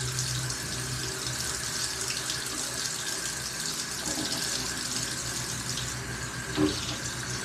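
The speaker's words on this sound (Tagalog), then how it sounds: "Hugasan ko muna to." A kitchen tap runs steadily while vegetables are washed under it, a close, continuous splashing stream with a brief clatter near the end and no talk.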